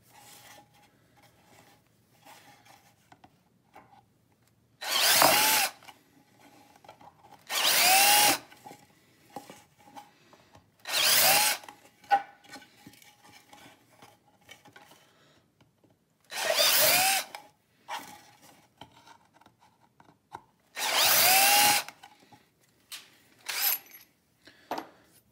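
Power drill boring holes while building a speaker protection kit, five or six loud bursts of a few seconds each separated by quieter pauses with light handling noise.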